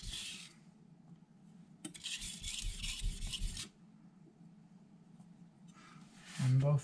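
Carbon steel knife stroked across a Miyagoshi whetstone, two rasping grinding passes of scraping metal on stone, close up, with a quiet stretch between them and a brief clunk at the end.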